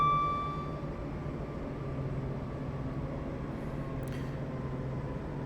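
A Class 172 diesel multiple unit running in Train Simulator 2021, a steady low engine drone with a few faint tonal whines. It stays fairly quiet and even, and a brief hiss comes near the end.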